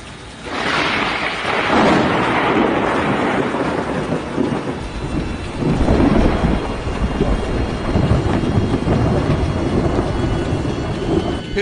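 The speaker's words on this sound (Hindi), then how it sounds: "तेज बारिश के साथ बिजली कड़की और नारियल के एक पेड़ पर जा गिरी" Heavy rain pours during Cyclone Amphan in West Bengal as thunder rumbles, a dense roaring wash that rises sharply after the first second and surges again midway, loud and unbroken.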